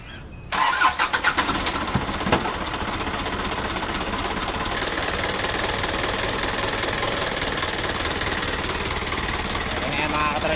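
An Isuzu 4HG1 diesel engine after a top overhaul and camshaft timing cranks a few times, catches and settles into a loud, steady idle that runs on alone.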